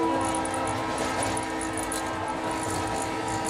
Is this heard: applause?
no